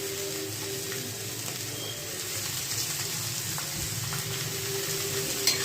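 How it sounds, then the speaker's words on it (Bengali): Greens sizzle gently in a pan after salt and a pinch of turmeric go in, a soft, continuous frying hiss with no voices and a faint clink near the end. "হালকা ভাজা ভাজা করে নামিয়ে নেব।"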